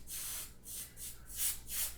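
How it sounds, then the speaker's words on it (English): Short hissing bursts from a spray can are released into the air of a laser lab, about five quick pulses in a row, close and fairly loud, with brief gaps between them. "So I'm going to spray the area through which the laser beam propagates to clearly see it in the air."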